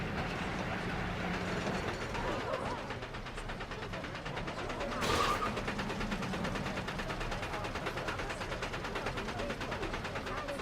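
Roller coaster trains run in the video game Planet Coaster, giving a steady rattling, clattering rumble throughout with one brief louder whoosh midway.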